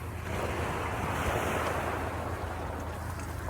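Steady roar of sea surf washing against a huge old seawall, with heavy wind buffeting the microphone throughout; loud, continuous and close, with no voices.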